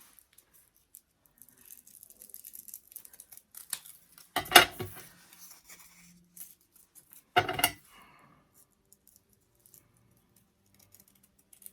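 Scissors snip paper petals for carnations in a quiet room: scattered light clicks and two louder, longer cutting bursts.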